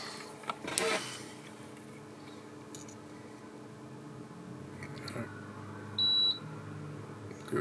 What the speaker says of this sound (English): Let's get the continuity tester out.